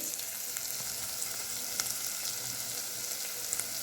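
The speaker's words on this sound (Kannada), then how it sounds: "ಇದು ಸ್ವಲ್ಪ ಎಣ್ಣೆ ಒಳಗೇನ ಫ್ರೈ ಆಗ್ಬೇಕ್ರಿಂದ ಫ್ರೈ ಆದಷ್ಟು ರುಚಿ ಆಗ್ತೈತಿ" Ingredients for palak rice fry steadily in oil, a dense, even sizzle with faint crackles and a couple of sharper pops, close and continuous with no voices.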